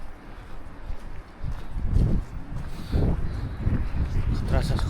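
Strong wind on a hike around Back Tor and Derwent Reservoir, buffeting the microphone in heavy low rumbling gusts that swell and ease, with a voice talking beneath.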